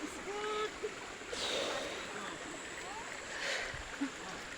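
A small river in rural Bukidnon flows with a steady, close rushing wash, broad and even throughout, with a few faint splashes and soft tonal chirps on top.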